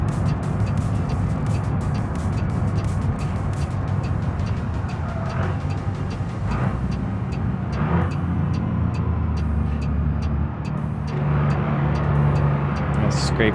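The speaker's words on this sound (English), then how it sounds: "Scraping the trailer there." Truck trailer in BeamNG scraping and grinding along the ground, a continuous harsh rumble with repeated sharp metallic clicks and bursts, under a talking voice.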